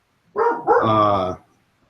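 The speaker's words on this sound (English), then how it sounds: "excuse the dogs in the background." A dog gives a single drawn-out bark or yelp lasting about a second, close and fairly loud, with no other sounds around it.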